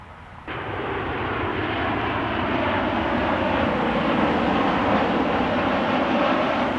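A 26-year-old United Airlines Boeing 737-824 in Star Alliance livery comes in to land on a windy day, its jet engine roar swelling abruptly and then holding as a loud, broad, sustained rumble.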